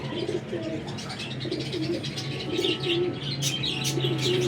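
Pigeons cooing repeatedly in soft, rolling calls, with chirps and fluttering noises from several birds close by.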